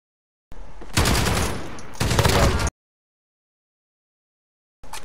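Two rapid bursts of automatic gunfire from the video game Call of Duty Modern Warfare crackle loud and dense, separated by a brief pause, followed by silence and a short final burst.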